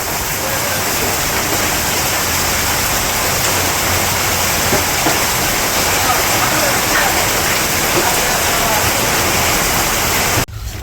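Heavy rain pours loud and unbroken during a village storm at night near a market, a dense steady hiss filling the whole stretch before cutting off abruptly at the end.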